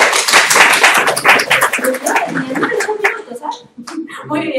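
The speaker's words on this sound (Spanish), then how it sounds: "Un aplauso para nuestro amigo, por favor." An audience at a territorial management session bursts into dense applause that fades over a few seconds to scattered claps, with a few voices murmuring near the end.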